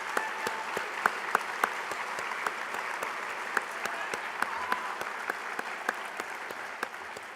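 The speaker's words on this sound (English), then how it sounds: "let's give them a round of applause" An audience at a talk breaks into applause, a dense sustained patter of many hands clapping at moderate distance for several seconds without a break.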